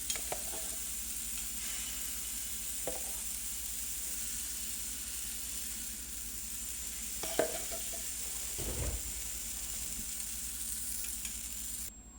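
Pancake batter cooking in plenty of butter in a pan gives a steady, close sizzle and hiss with a few light utensil knocks, and nobody speaks.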